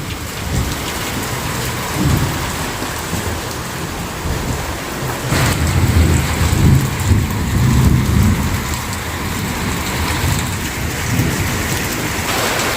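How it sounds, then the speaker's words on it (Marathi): Heavy rain pours down steadily and loudly, with deep rumbles of thunder rolling in and out beneath the constant downpour. "पुन्हा पाऊस सुरू झालाय बराच जोराचा पाऊस येतोय आणि ढग पण असे मधून गरजत आहे"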